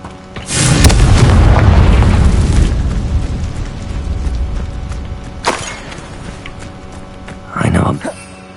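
A Confringo blasting spell in Hogwarts Legacy erupts as a loud, deep boom that rumbles and decays over a couple of seconds, followed by a brief thud and a second shorter burst near the end.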